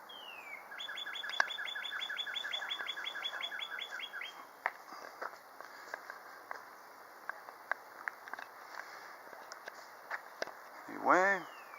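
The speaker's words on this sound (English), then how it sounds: "beautiful sounds of birds chirping" Birds in an old cemetery chirp near and far: a rapid repeated trill at first, then scattered tweets and one swooping call near the end, with light footsteps and occasional quiet talk beneath.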